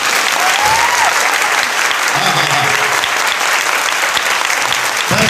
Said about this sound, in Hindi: बस यहाँ सिर्फ ताली बजी है, आवाज कहाँ गई?